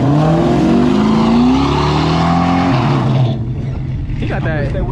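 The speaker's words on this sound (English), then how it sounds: "He got that old school muscle car sound" A muscle car's 4.6 engine rumbles loudly nearby at a Michigan car meet, revving with rising and falling pitch, then settling to a deep idle as a voice talks over it.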